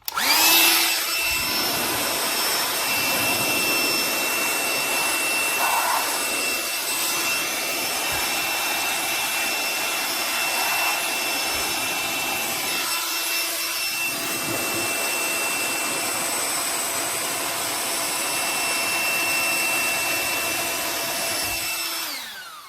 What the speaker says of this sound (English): I've been using both of these blowers to try to blow stuff around on my work surface.